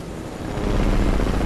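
A helicopter in a video game gives a steady, loud rotor-and-engine rumble that swells slightly after the first half second and holds throughout, with no voices.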